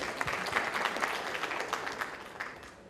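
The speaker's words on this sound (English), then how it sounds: "Let's give a round of applause" Audience applause at the ad:tech New Delhi 2014 marketing conference, a dense steady patter of many hands clapping together for about three seconds, fairly distant and even, with no talk over it.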